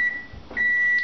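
Kitchen cooking timer sounding with steady high-pitched electronic beeps, a long tone broken by a short gap, close and clear with no talking.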